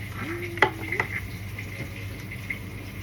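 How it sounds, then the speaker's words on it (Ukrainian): Crucian carp frying in oil in a home pan, a soft continuous sizzle with a few sharp clinks of utensil against the pan near the start, no talking. "Та ще й з такими смачними смаженими карасями."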